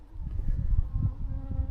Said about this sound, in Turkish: Arı da konuyor buraya.